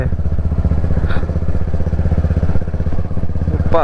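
A Royal Enfield Classic 350 motorcycle pulls away with a loud, steady single-cylinder thump close by. A brief mechanical clatter comes partway through.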